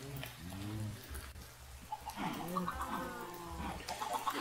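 Chickens cluck in Minecraft, several short fowl calls near the listener over steady game background noise while someone talks across them.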